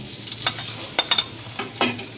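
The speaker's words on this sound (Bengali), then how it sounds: "বাগারের জন্য একটি প্যানে সব কিছু দিয়ে মরিচ, জিরা, রসুন সবগুলো দিয়ে ভেজে নিচ্ছি" Chili, cumin and garlic fry in a pan for a tempering, giving a soft crackling sizzle broken by a few sharp pops and spits, with no speech.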